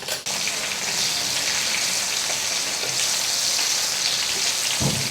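Green chillies frying in hot oil in a pan, a loud close sizzle that starts with a sharp burst and then crackles steadily, with no talking.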